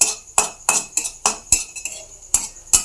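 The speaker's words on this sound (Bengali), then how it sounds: "দিয়ে এটা একটু নাড়াচাড়া করব।" Fried onion and green chillies being stirred in a pan, with a metal utensil striking and scraping the pan in about eight sharp, close clinks at an uneven rhythm, no voices.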